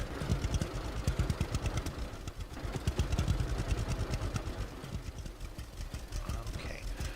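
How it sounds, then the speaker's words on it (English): An old tractor engine in the farming game Farmer's Dynasty chugs with a rapid, rhythmic clattering beat, steady and close, pulling an old plow. "We're going to take our old school tractor and our old school plow"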